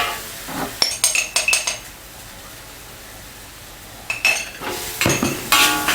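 Deep fried shrimp tossed with Sichuan pepper salt in a wok, rapid bursts of metallic clanks and scraping from quick stirs and flips, loud and close, with a quieter pause in the middle before a second flurry.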